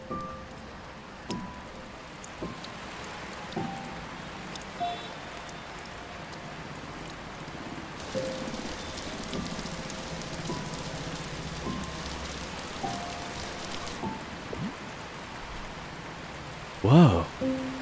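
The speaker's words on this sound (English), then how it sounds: "It's raining." Steady rain falls across a video game scene in Until Then, a soft even hiss of drops on surfaces with faint patters, carrying on alone with brief louder moments near the end.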